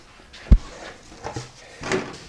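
A defrost fan is fitted into the door of a home freeze dryer: one sharp plastic knock, then a few softer clunks and scrapes as the part settles, close by.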